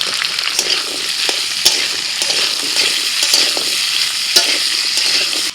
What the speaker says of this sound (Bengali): টমেটো দেওয়ার পর আরও 3-4 মিনিট একটু নাড়াচাড়া করে নিয়েছি।